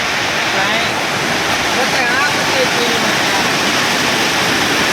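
Loud, continuous roar of rushing flood water in a river after downpour in a Gir village, a dense unbroken surge with no pauses.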